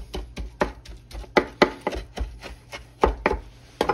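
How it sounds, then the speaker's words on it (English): A knife roughly chops spinach on a cutting board for a savory spinach soufflé, with close, uneven thuds coming in quick clusters and short pauses. "Rough chop it, little bitty pieces so it can distribute better in the souffle."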